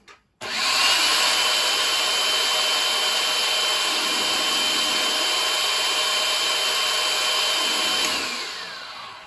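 A food processor purees garlic with lemon zest and salt, a loud, steady motor whir that starts abruptly after a short click, holds evenly for about eight seconds, then winds down.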